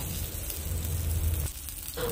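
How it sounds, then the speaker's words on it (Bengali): Fish fry in a pan, giving a dense, steady sizzle with crackling oil that drops briefly near the end before resuming close by. "এখন আমি মাছগুলো ভাজছি"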